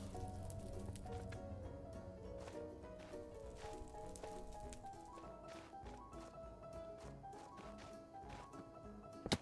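Rain patters softly in the Minecraft world, a faint, continuous drizzle of drops mixed under quiet background music.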